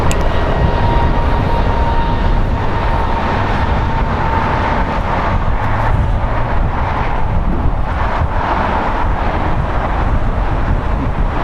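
A jet airliner taking off at LAX airport, a steady loud roar of engines with wind rumble that holds unbroken throughout, heard from fairly close by without talk.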